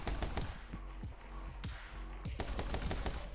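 Rapid gunshots from shooting enemies in the video game My Friend Pedro, crisp sharp shots in quick clusters with brief gaps, punchy and close over a steady music bed.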